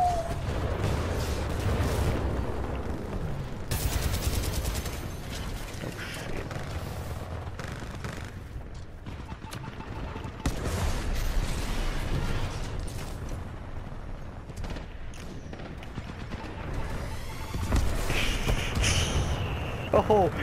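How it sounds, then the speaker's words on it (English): Airstrike explosions and gunfire in a video game: repeated heavy booms and bursts of shots, loud and dense across the whole stretch. "Oh, airstrike."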